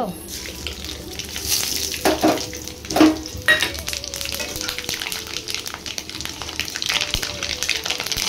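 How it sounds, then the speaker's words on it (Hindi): Bay leaves sizzle steadily in hot oil in a pan for a ghanta vegetable curry, with a few close clinks and scrapes over the frying hiss. "तेजपत्र आम तेल पकईदे"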